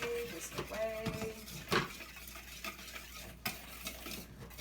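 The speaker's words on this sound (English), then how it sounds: "Now we're going to whisk them up. So let's whisk away, whisk away." Sugar, baking soda and salt being whisked together in a bowl, with quick scraping and ticking strokes in an uneven rhythm, close and fairly soft.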